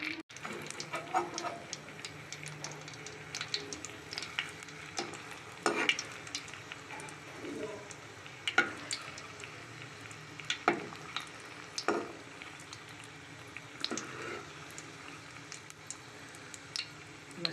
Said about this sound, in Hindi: ये गर्म होने पर इसमें हम साबुत लाल मिर्चें डाल देते हैं।